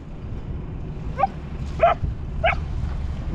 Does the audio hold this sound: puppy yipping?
yes